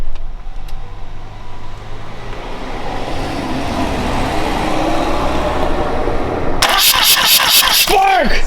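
A 1979 Mazda RX7 rotary engine cranks on its first start attempt, a loud sustained starter whir that runs on for several seconds before a sharp burst of voices cuts in over it.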